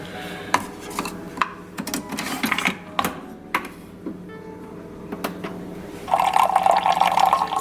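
Myers breakfast blend light roast coffee is handled and poured, with scattered clicks and knocks giving way to a steady liquid stream filling a cup near the end.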